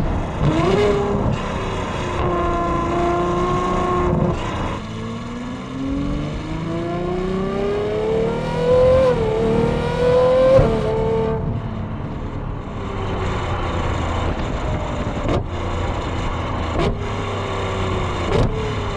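Ferrari Novitec V12 with straight pipes drives on a short warm-up run, its engine note climbing and falling through several loud revving pulls and gear changes, ending in lighter cruising with brief sharp blips.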